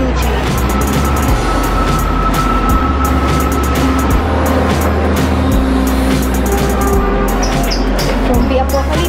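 Loud continuous rumble of an LRT light rail train in motion, with low rolling drone and rattling, steady throughout without speech.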